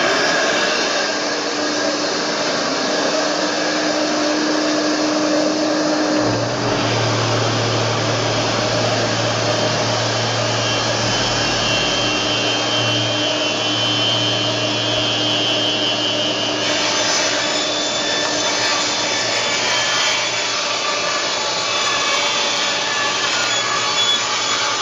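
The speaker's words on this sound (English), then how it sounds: "I've never tried to run cloth through a table saw before." A table saw cuts through felt cloth with a steady loud whine, and its motor tone shifts lower once the blade engages the material and holds through the cut.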